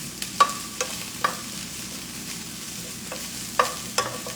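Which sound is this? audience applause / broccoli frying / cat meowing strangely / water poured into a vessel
broccoli frying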